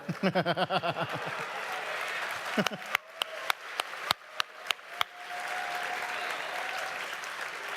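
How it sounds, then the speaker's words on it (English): An audience at a QuakeCon 2018 Fallout 76 fan panel bursts into loud, dense clapping and cheering, with voices mixed in and a few sharp claps standing out as the applause carries on. "That's like the first applause of the panel."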